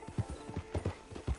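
Horse hooves in a video game sound as a steady rhythmic clip-clop, about ten close, crisp hoof strikes at walking pace, with no voices.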